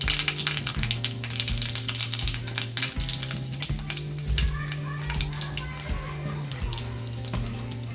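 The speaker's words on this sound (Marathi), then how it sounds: "आता आपण तेलामध्ये राई आणि जिऱ्याची फोडणी द्यायची" Mustard seeds and cumin tempering in hot oil for upma, a steady crackling sizzle with scattered sharp pops, close and continuous, over a low background hum.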